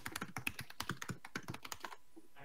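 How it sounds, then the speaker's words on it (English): Rapid, crisp keystrokes on a Mac laptop keyboard patter close by in an uneven rhythm for about two seconds, then stop, leaving near silence. "I'm not typing anything angrily."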